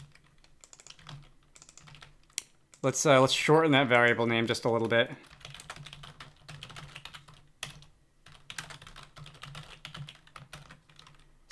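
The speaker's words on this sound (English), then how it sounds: "I'm getting tired of typing out path destination every time." Rapid computer keyboard typing while coding a tower defense game, with steady close clicks running throughout and someone talking over them for a couple of seconds in the middle.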